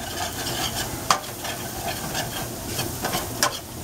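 A spoon scrapes and stirs flour through a sizzling mixture in a pan, with irregular scraping strokes and occasional clinks over a steady frying hiss.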